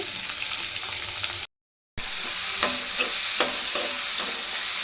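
Chopped onions and red chillies frying in a pan, giving a steady loud sizzle with stirring scrapes that cuts out briefly, then resumes.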